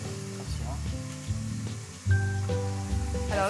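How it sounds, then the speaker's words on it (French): Rice balls sizzle and fry in hot sunflower oil in a pan, a steady crackling hiss with low voices talking faintly in the background. "L'huile de tournesol qui a chauffé dans la poêle peut enfin accueillir nos boulettes de riz."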